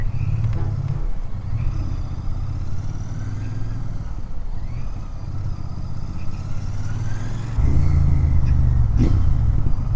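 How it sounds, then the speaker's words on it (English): A Royal Enfield Bear 650 parallel-twin, 270-degree-crank engine rumbles in a deep, throbbing stock exhaust note, revving through gears and swelling louder near the end, with no speech. "Inline parallel twin 270-degree crank symphony."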